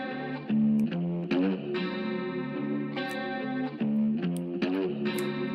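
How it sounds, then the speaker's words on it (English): A heavily distorted electric guitar plays short chugging chords and sustained notes with a chorused, effected tone, loud and upfront, in a dubstep-influenced track. "I really like this guitar."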